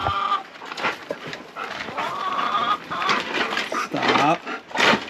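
Backyard hen held in a small pen, squawking and clucking in bursts, a loud close squawk near the end, with a person talking over and between the calls.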